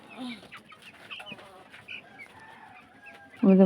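Village hens and roosters, two cocks and five hens, cluck softly and intermittently nearby, ending with a sudden louder call.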